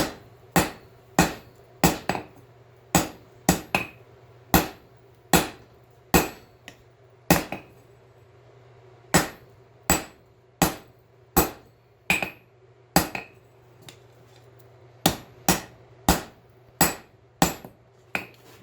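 Hammer blows forging cable damascus steel near forge-weld temperature, squaring the billet for cutting and restacking: about two dozen sharp, ringing strikes at a steady, close rhythm, with short pauses between runs and no talking.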